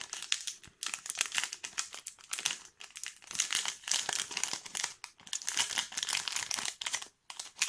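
A small plastic pouch from a dreamcatcher craft kit crinkles and rustles close up, irregular bursts of crackling handling noise with short pauses, no talking.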